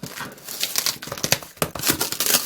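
A box holding a 1985 Texas Instruments Speak & Music is torn open by hand, its packaging crinkling, ripping and rustling in loud, close, irregular bursts with no talking.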